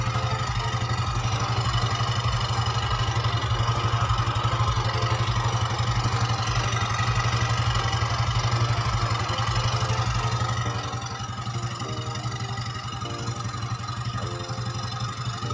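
Yamaha Xeon RC scooter engine idling rough after a V-belt and roller change, a steady low throbbing hum with metallic clatter, continuous and close, dipping slightly toward the end.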